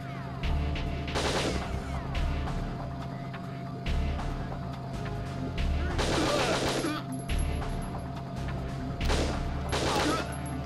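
Gunfire from shooting at an enemy in the video game Winback, sounding in several loud bursts at irregular intervals over steady background game noise.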